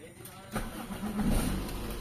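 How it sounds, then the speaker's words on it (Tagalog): A Toyota GLI engine with low power at idle cranks and catches, then settles into a steady low rumble close by. "Try natin paanda rin."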